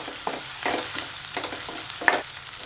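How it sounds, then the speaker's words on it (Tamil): Two finely chopped large onions stirred and sautéing in hot oil while cooking a mushroom capsicum varuval, a soft sizzle under a series of repeated stirring scrapes, close by with no talk. "இது லேசாக செவந்து வர அளவுக்கு வதக்கி விட்டுக்கலாம்."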